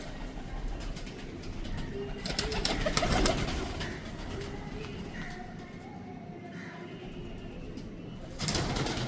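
Salara and Lal Pari rain pigeons coo softly in a loft, with low, faint cooing under steady background noise and a brief louder burst near the end.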